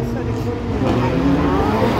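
A Peugeot 205 rally car accelerates on a hillclimb stage, its engine a steady, loud roar throughout, with spectators talking nearby.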